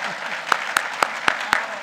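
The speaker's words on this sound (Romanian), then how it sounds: "Vă rog să-l aplaudați încă o dată." An audience applauding at a mayoral campaign launch in Onești, steady clapping from a crowd with a few sharper, louder claps cutting through.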